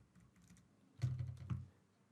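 Keyboard keys pressed on a computer while working in a spreadsheet, a faint light patter followed by two firmer, louder key strikes about half a second apart.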